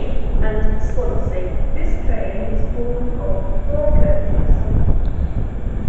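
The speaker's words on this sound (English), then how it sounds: "As arriving in now on platform 5 is a Transport for Wales service bound for Swansea." A Transport for Wales service bound for Swansea pulls into platform 5 at Crewe station, its steady rumble and rolling wagon noise filling the scene while a nearby voice talks over the arrival throughout.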